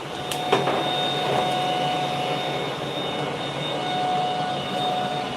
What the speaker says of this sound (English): I'm just going to turn it off because the fan is pretty loud.